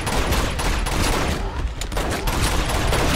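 Rapid sustained gunfire from an unidentified weapon in the video game Uncharted 2, loud and dense with overlapping shots filling the whole stretch and only a brief dip midway.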